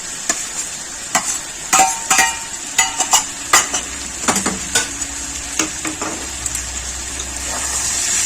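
Prawns frying with spices in a pan while being stirred, a bright continuous sizzle broken by a quick series of sharp spatula scrapes and clacks, close and fairly loud, with no talking.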